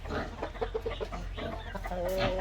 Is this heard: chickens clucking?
yes